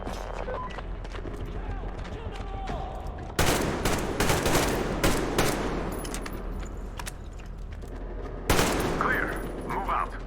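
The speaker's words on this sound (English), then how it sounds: "Covering fire for the colonel. No saving ammo." Covering fire in Metro Exodus, The Two Colonels DLC, with bursts of automatic gunfire erupting loudly after a quieter opening, sustained rattling volleys and a second burst near the end, amid game sounds.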